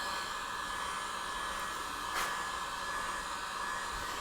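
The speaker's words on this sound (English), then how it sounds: "I'm using the heat gun on low." Heat gun on its low 600-degree setting working on boat seat backing, a steady close airy whoosh with one brief louder puff partway through.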